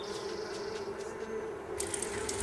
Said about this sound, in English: let's get rid of these bees. I think we start with the bees because they are loud